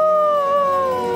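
A cartoon ghost's howl, a sustained wavering tonal wail that slowly sinks in pitch, loud and alone, with a barking, seal-like quality.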